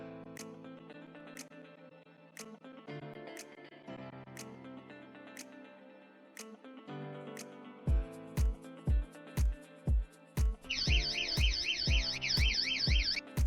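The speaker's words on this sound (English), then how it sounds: "You guys notice that alarm sound?" A door stopper alarm gives off a high, warbling electronic wail near the end. Before it come rhythmic beeps and thumps over a steady electronic tone bed.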